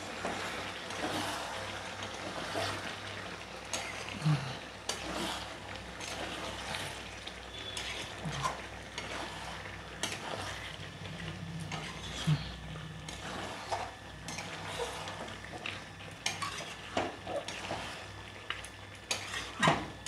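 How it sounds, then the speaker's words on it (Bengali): Chicken curry being stirred in a pot: a spoon scrapes and clinks against the metal in repeated soft strokes over a low simmering sizzle, close and continuous. "নেড়ে দিচ্ছি"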